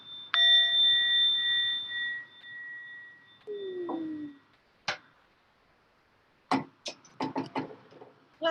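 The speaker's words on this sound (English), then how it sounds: "I'm gonna ring the bell and then we'll talk about our plan." A bell rung once with a clear ringing tone that slowly fades, followed by a few faint taps and knocks in a quiet room before a bellydance group meeting.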